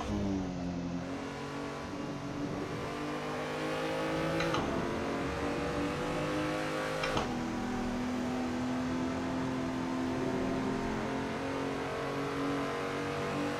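BMW race car in the Assetto Corsa racing game, its engine droning and climbing through the revs with sharp gear shifts, loud and continuous from the cockpit, no speech.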